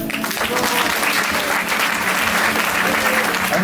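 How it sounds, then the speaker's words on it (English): Audience applause at a Janmashtami drama performance, a loud, dense wash of many people clapping steadily throughout, with faint crowd murmur underneath. "Give them a round of applause."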